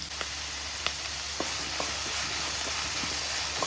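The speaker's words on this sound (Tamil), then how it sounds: "பீட்ரூட் நல்லா வதங்கிட்டுருக்கு." Beetroot with curry leaves sautéing in a pan, a continuous close hiss and sizzle broken by occasional small pops and utensil taps.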